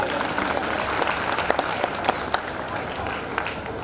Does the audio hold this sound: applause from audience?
yes